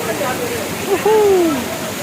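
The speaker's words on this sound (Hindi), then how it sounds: "ऊपर से पानी आ रहा है, ये देखें, बहुत ज़बरदस्त सीन है" Umbrella Waterfall with water pouring down from above, a steady broadband rush filling the whole clip at close range, with a brief tonal voice or whistle cutting in partway through.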